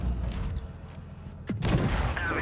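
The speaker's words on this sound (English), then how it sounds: "Feel secured with a big explosion." Big explosion in the tank battle game World of Tanks Blitz on Nintendo Switch: a sudden sharp blast bursts out over steady rumbling battle noise and carries on as a loud roaring wash.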